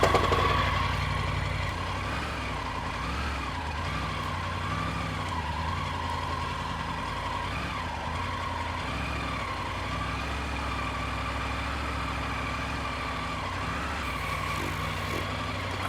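A motorcycle engine runs steadily at a low idle with gentle throttle blips, a constant close rumble through the whole stretch with no talking.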